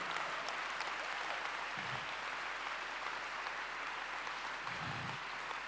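A church congregation applauds during a worship service, a steady, fairly distant wash of clapping that continues evenly for several seconds.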